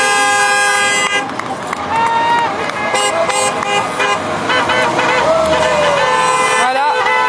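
Car horns honking from passing drivers backing the Freedom Convoy as it leaves Rennes. Loud, overlapping sustained and short toots ride over steady road traffic, with voices faintly in the mix.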